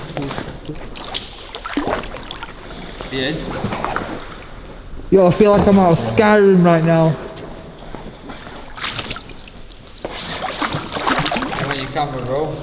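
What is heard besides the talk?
rowing a boat through cave water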